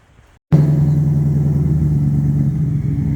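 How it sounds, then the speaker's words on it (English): A cold car engine catches after a brief quiet moment and revs up high, then holds a loud, steady, rumbling roar close by for the rest of the clip with no talk. "So this thing's cold, she really revs up."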